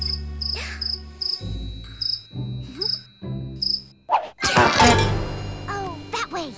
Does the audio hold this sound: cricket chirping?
yes